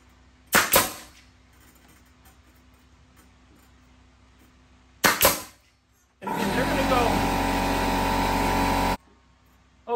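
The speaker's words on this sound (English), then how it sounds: "sorry about the air compressor turned on" An air compressor kicks on with a loud, steady motorized roar lasting a few seconds before cutting off, preceded by two sharp percussive bangs in a workshop setting while a dog ramp is being built.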